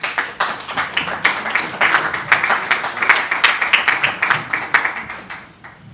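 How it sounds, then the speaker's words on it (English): Scattered audience applause in a conference hall, a modest crowd clapping unevenly for several seconds before tapering off at the end. "Please a clap for her."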